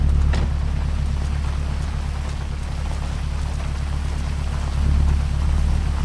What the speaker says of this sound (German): Ah, jetzt regnet es noch.